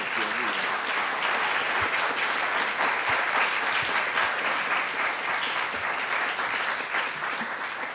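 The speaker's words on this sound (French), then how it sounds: "Je voudrais qu'on les applaudisse tous les 3, s'il vous plaît." A conference audience gives sustained applause to three panel speakers after a debate session, a loud, even wash of many clapping hands lasting the whole stretch with no pauses.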